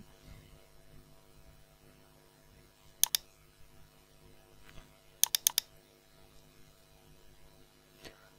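Keys on a computer keyboard click faintly in short bursts: a pair of taps, then a quick run of four, then a single tap, over a low steady room hum.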